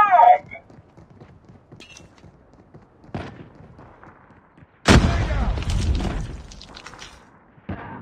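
Frag grenade explosion in a Call of Duty-style search and destroy match: a sudden loud, close blast with a crackling, rumbling tail lasting a couple of seconds, among sparse gunfire and footsteps, with brief in-game voice callouts.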